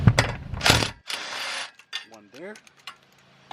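Ratcheting and metallic clicks from a wrench removing 12 mm bolts on a car's shift linkage during a B18C1 engine swap, a few quick bursts up close with a brief spoken remark between them.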